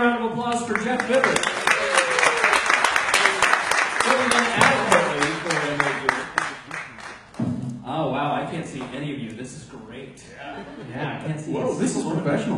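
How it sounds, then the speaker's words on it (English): Audience applause rises into a dense clatter of clapping, then fades as people begin talking and laughing over scattered claps. "Give another round of applause for Jeff Bibber."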